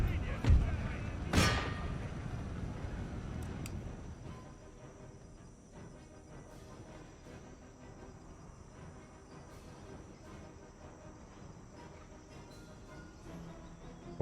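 Troops firing musket volleys in Empire: Total War, a sharp loud crack near the start followed by scattered distant shots under a low battlefield rumble.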